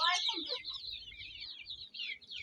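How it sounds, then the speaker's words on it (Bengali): Hens and roosters on a Bangladeshi poultry farm, a burst of close, bright clucking and squawking calls that runs on and off in quick irregular phrases, with faint low murmurs beneath. "এই যে উপরেও মোরগ আছে একটা, আর নিচেও মুরগি আছে"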